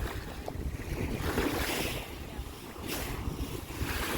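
Waves wash and roll onto pebbly Larvotto Beach in Monaco, a soft, uneven surf hiss mixed with wind buffeting the microphone, fairly faint and continuous.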